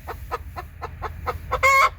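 Chickens cluck in a rhythmic series of short calls at a farm with native-breed roosters, ending in a louder drawn-out crow-like squawk; close and clear, with no talk.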